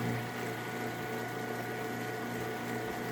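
The drain pump of a Kenmore 80 Series washing machine pushing water out, a steady, even whirring hum with gurgling water, moderately quiet and constant without talk.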